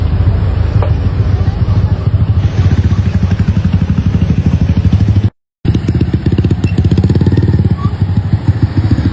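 A crowd of motorcycle engines idles and revs continuously in a packed, gridlocked motorbike parking lot in Kemang, Jakarta, with a dense clattering drone that cuts out briefly midway and then resumes just as loud.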